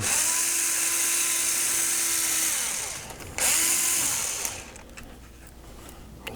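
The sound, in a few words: power tool removing bolts from a pinball machine motor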